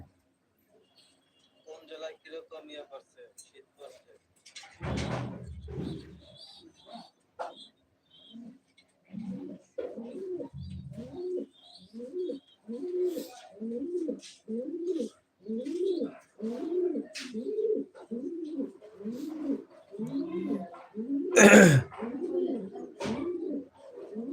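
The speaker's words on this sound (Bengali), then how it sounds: "দেখেন এখানে কবুতর পালে ঘরের ভিতরে" Pigeons kept indoors in a house coo steadily, a rhythmic run of repeated throaty calls close by, with a few sharp thumps and bursts of noise between them.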